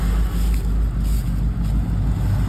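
A car engine runs with a loud, steady low rumble and faint rhythmic pulsing close by, idling on its own without anyone talking.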